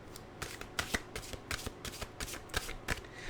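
Mantra cards being shuffled for a reading, a rapid series of crisp riffling flutters and soft slaps close up, with no talking.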